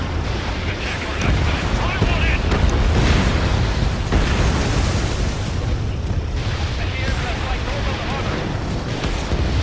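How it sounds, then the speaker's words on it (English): Airstrike explosions pound a base in the Ace Combat 7 video game, a dense continuous roar of booms and rumbling blasts with voices mixed in. "Tachyon base taking damage from airstrikes."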